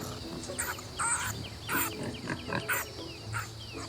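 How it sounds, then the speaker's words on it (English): Wild boars in a swamp grunt and breathe loudly in rhythmic rough bursts, close and steady, alongside a faint insect-like background hum. "The clicking of their teeth mingled with the pigs' loud breathing."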